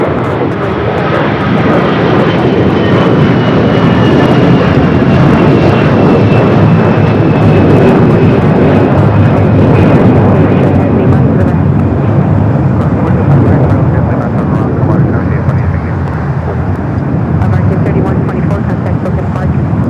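Airliner jet engines roar at LAX, a loud, sustained broadband rumble with a faint rising whine, steady throughout with no break.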